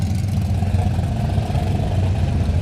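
A loud car engine idles and rumbles steadily at a car show cruise, a deep continuous throbbing drone close by with no voices heard.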